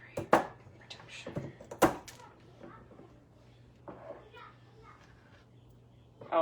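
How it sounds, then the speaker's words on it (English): Children chatter and play in another room, with brief bursts of high voices and knocks scattered over a steady low hum, faint and distant behind the nearer activity. "if you hear like children in the background, it's the little hooligans"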